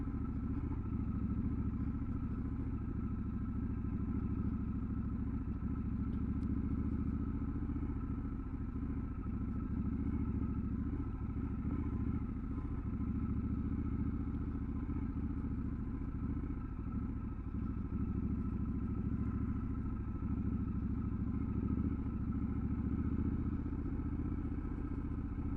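A Triumph Scrambler 1200 XE engine drones steadily while the motorcycle rides off-road through dry sand, a continuous mid-pitched hum with faint clatter and thumps over the full length.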